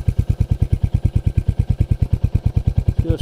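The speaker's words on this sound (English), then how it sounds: "the note that that exhaust is making," A Royal Enfield Hunter 350 motorcycle idles close by, its exhaust giving a steady, deep, rhythmic thump of evenly spaced pulses throughout.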